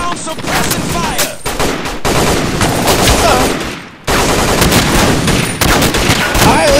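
Sustained machine gun fire lays down suppressing bursts in a staged toy-soldier battle, loud and dense throughout with a brief dip near the middle, plus faint shouting mixed in.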